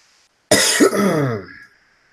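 A single loud, close throat-clearing cough, rough and raspy, lasting about a second before trailing off into silence.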